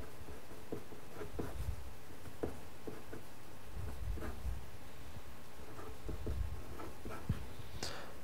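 Equations being written out by hand: soft, quiet scratching of a pen on paper in short irregular strokes and taps, close up and alone with no speech.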